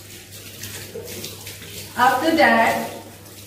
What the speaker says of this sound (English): Firstly, wet your hands with water.